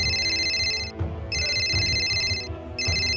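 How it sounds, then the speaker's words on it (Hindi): A phone ringtone plays in three repeating bursts with brief gaps between them, a bright electronic chime that is clear and close. "तभी बुल्ली के मोबाइल में फोन आ जाता है।"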